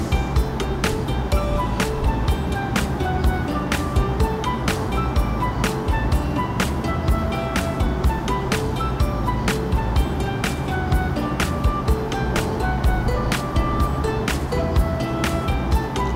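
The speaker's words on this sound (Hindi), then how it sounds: "तो सबसे पहले हम हमारी काली मिर्ची और लौंग को अच्छे से कूटेंगे" Black pepper and cloves being pounded for spiced tea: a steady train of regular soft knocks, about two each second, over a constant background hiss.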